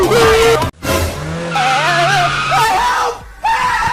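Tires squeal in a long, wavering skid as a truck brakes hard to a stop, loud and close, broken by brief gaps and rising again at the end.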